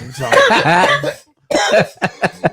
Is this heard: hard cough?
yes